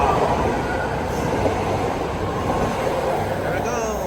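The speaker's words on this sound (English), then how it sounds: "8 car Yellow Line Antioch Train now departing Powell Street Station on platform number 2" An 8-car BART Yellow Line train bound for Antioch pulls out of Powell Street Station in San Francisco, a steady loud underground rumble of wheels and motors filling the platform, with a faint high squeal rising near the end.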